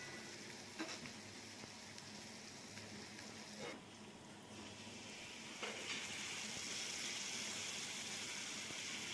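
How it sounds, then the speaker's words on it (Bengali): Mustard and poppy seed paste with chilli paste goes into a sizzling katla fish curry, a steady close frying hiss with stirring scrapes and a brief wet splash, growing slightly louder toward the end. "এবার সর্ষে পোস্ত বাটাটা দিয়ে দেবো"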